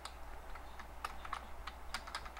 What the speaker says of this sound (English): My typing's not going well today.